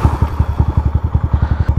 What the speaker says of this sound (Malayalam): ഇനി നമുക്ക് നമ്മുടെ ബൈക്ക് സ്റ്റാർട്ട് ചെയ്തിട്ട് ബാക്കിയുള്ള കാര്യങ്ങൾ സംസാരിക്കാം